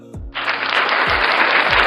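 Applause breaks out to welcome a guest on a podcast, a sudden, dense wash of clapping that starts after a brief low tone and holds evenly loud to the end.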